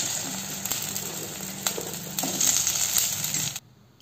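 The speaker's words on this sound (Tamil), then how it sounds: "நான் வந்து கொஞ்சமாக எண்ணெய் ஊற்றி வெண்டைக்காயை வந்து லேசாக வதக்கி எடுத்துக்க போகிறேங்க" Okra pieces fry lightly in a little oil, giving a close, steady sizzle with scattered crackles and small clinks that stops abruptly near the end; no one speaks.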